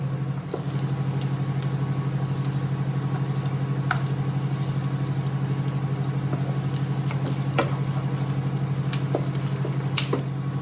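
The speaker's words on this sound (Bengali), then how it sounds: "কড়াই সাদা তেল গরম করে নিয়েছি এবার পেঁয়াজ কুচিগুলো দিয়ে দেব" Chopped onions fry in hot white oil in a wok, making a continuous soft sizzle with scattered pops over a steady low hum, with no talking.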